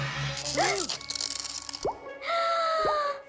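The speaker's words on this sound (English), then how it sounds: "That tube up there is leaking. That's acid dripping out." Cartoon acid dripping from a leaking tube: a few distinct drip-like plops with swooping pitch, alongside a steady electronic hum and whine, under cartoon voices talking.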